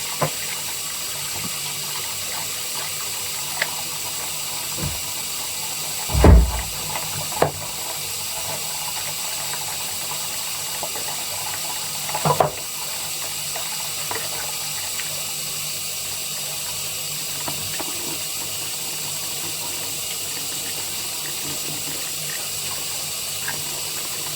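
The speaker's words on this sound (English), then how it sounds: "I'm just going to give it a wash" A tap runs steadily with a broad hissing rush while hand-spun alpaca yarn is washed in a sink, with a few louder splashes and knocks breaking through the constant flow, close by and without talk.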